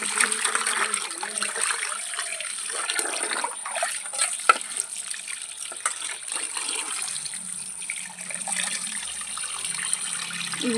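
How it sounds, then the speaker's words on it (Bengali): Running water flows steadily from a tap while cut hilsa fish is washed, a continuous close splashing gush with occasional small knocks and shifts in the flow. "এখন আমি ধুয়ে পরিষ্কার করে নেব।"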